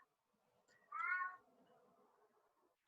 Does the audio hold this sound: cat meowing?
yes